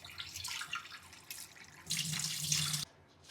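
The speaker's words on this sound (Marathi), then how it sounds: "कोळंबी आपल्याला स्वच्छ धुवून घ्यायची आहे." Prawns being rinsed under a running kitchen tap: a steady hiss of flowing water that swells louder midway, then cuts off near the end, with no talking.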